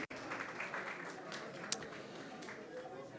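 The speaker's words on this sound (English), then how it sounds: "let's give a big round of applause to everyone who has joined us here in person." An in-person audience at a Krishna Katha talk by a speaker applauds in a steady, moderately quiet wash of clapping that runs throughout, with one sharper clap standing out.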